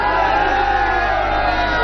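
An excited crowd at Banaras Hindu University cheering for PM Modi, a dense, steady roar of many voices with whoops, sustained and loud throughout.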